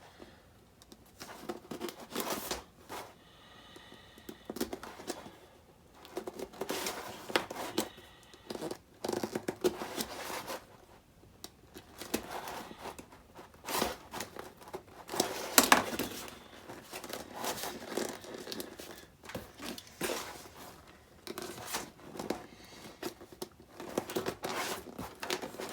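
Hand cutting a hole for a puppet prop pole, following just inside a marked line, giving irregular rasping and crinkling cuts in short bursts with brief pauses, close and fairly quiet.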